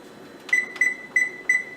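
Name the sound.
oven timer being set with beeps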